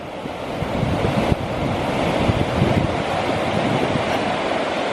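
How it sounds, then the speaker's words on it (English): Tyndall Creek in the Sierra Nevada on the Pacific Crest Trail, rushing loudly and continuously close by, a broad steady roar of fast water with some wind buffeting the microphone. "this one is Tyndall Creek"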